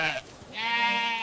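A single sheep bleats loudly and close by, a wavering drawn-out call that breaks briefly and then rises into a longer sustained bleat with no talking.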